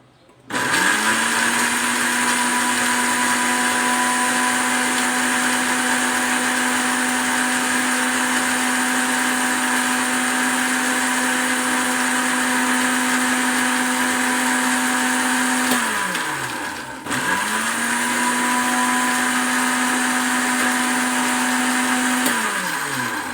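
A blender grinds falsa fruit with a splash of milk, a loud steady motor whine that runs about fifteen seconds, briefly cuts out, then spins up again for another stretch.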